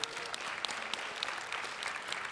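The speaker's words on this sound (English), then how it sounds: "Give a round of applause for both of your players, ladies and gentlemen." Audience applause at an esports tournament quarterfinal, a steady dense clatter of clapping from a crowd that holds at an even loudness throughout the short stretch.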